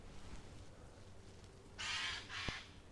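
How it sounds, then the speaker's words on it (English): A magpie gives two harsh, raspy squawks in quick succession, fairly close, over quiet outdoor background hiss. "it sounds like a magpie to me, squawking"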